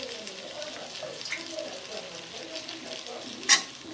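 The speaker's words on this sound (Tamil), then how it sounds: "கொஞ்சமாக 1/4 டம்ளர் பக்கம் தண்ணி விட்டு நல்லா வதக்கிக்கலாம்." Cauliflower sautéing in a pan with a splash of water, a soft steady sizzle with occasional stirring scrapes and one sharp clink near the end.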